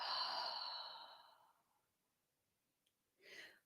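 A long, soft exhaled breath during a yoga twist fades out over about two seconds, followed after a pause by a short, quieter breath, close and gentle with no talk.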